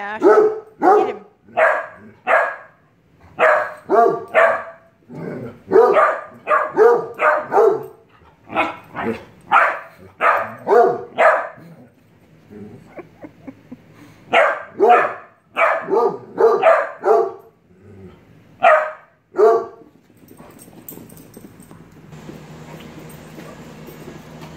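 A dog barks repeatedly during rough play with a cat indoors, rapid loud close barks in clustered bursts with short pauses, tapering into quieter noise at the end.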